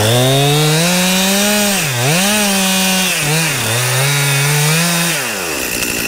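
A chainsaw cuts through a felled tree trunk still held on its hinge, close and loud, its engine pitch dipping and recovering several times as it bogs in the wood, then rising at the end.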